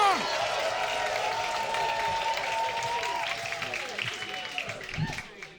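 Audience applause with some cheering greets a comedian walking onto a stage, a steady dense wash of clapping that holds for several seconds before slowly thinning out.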